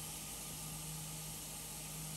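Chopped onion sizzles in hot oil alongside golden-brown garlic, giving a faint, steady hiss throughout with no one talking.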